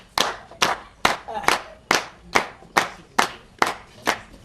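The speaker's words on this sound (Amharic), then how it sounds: "ሞቅ አድርጉ፣ በጭብጨባ ተቀበሏቸው።" An audience welcoming guests claps in unison, about nine sharp, evenly spaced claps roughly half a second apart, crisp and close with brief decays between them.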